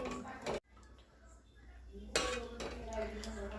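Mutton curry being stirred in a pot, with metallic scraping and clinking of a spoon against the pot, a brief scrape at the start then steadier stirring after a pause, close and moderately loud.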